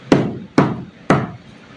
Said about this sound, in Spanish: tocan 3 veces la maldita puerta